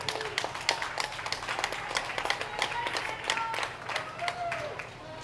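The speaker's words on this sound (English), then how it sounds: "let's give them another big applause on the way out" Audience applause rings out for young showmen leaving the ring at a livestock show after an 8-year-old showmanship class, steady scattered clapping from a crowd with some voices mixed in.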